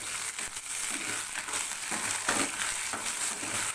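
Shallots, dried red chillies and curry leaves sauté in hot oil with a loud, continuous sizzle and crackle, broken by soft stirring scrapes, no voices.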